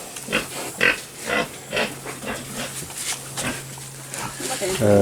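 Piglets on a pig farm squeal and grunt in short repeated cries close by, while a person talks over them throughout.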